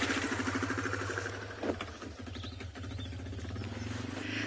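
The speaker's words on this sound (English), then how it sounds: "if you can hear the motorbike." An anti-poaching unit's motorbike drones steadily nearby on a South African safari, its pitch dipping briefly midway before picking up again as the bike passes.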